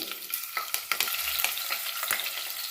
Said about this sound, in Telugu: ఆయిల్ వేడైందండి పచ్చిమిరపకాయలు వేసుకోవాలి